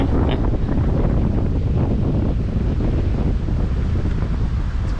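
Strong wind roars steadily across the microphone at a lakeside campsite on Trout Lake in the Boundary Waters, a loud continuous rumble with a faint wash of water beneath it.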